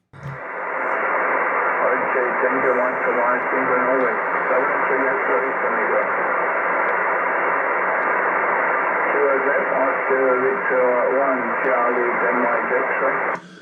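A faint voice of a weak HF amateur radio contact on shortwave, barely rising above a constant band-limited hiss of static that fills the whole stretch.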